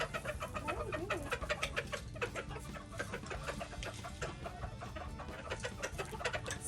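Several broody hens cluck and call close by in a coop, in irregular overlapping bursts over a low background hum, with no talking.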